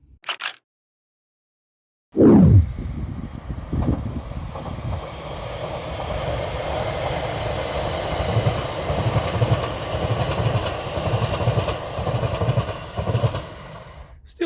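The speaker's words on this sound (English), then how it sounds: "Still working this fence row by this electric train." An electric train passes beside a field by a fence row, rising abruptly after a brief click into a loud, sustained rumbling roar that holds steady for over ten seconds.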